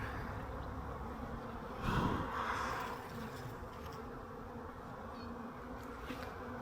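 Soft, steady buzzing of honeybees at a hive split in a yard fills the clip, with one louder buzz passing close by before fading back to a faint hum.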